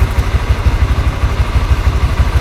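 A motorcycle engine runs steadily at idle, close and loud, with a rapid low pulsing thump and a mechanical clatter on top, alone without talk.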